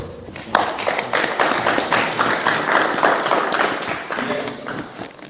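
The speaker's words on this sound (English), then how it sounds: "So please clap for yourselves." A crowd at a party political gathering breaks into sustained, dense applause, many hands clapping together loudly and evenly for several seconds before tapering slightly.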